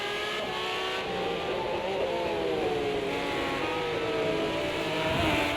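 A BMW V12 LMR race car engine in a sim racing game at Long Beach holds a loud, close, continuous drone, its pitch sliding up and down as the car accelerates.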